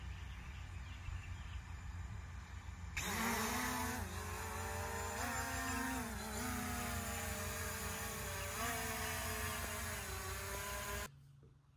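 A Ruko F11GIM2 drone whirs into a steady, close rotor drone whose pitch wavers slightly as it flies, then cuts out abruptly near the end.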